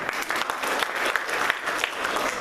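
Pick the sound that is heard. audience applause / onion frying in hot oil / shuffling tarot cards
audience applause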